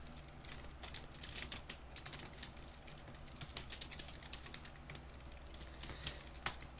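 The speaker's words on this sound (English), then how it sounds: "I've been typing that a lot." Rapid clicking of keys on a computer keyboard, steady typing with irregular bursts and louder taps, close by with no talking.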